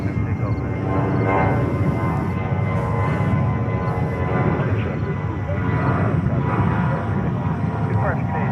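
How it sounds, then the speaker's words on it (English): A National Cargo heavy jet takes off from runway 22 right at JFK, its engines a loud continuous roar that fills the whole stretch while voices talk over it. "National Cargo 4827 heavy, runway 22 right, cleared for takeoff."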